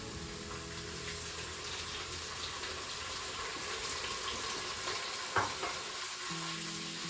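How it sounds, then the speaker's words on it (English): Defrosted garlic fries in hot oil inside a Crockpot Express pressure cooker alongside onions, giving a steady, soft sizzle with a brief utensil knock near the end. "We now want to give this approximately 30 seconds to fry."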